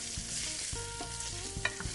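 Pancetta sizzles in garlic-infused oil in a pan with a close, steady crackle, broken by a few stirring scrapes and small pops, with no talk.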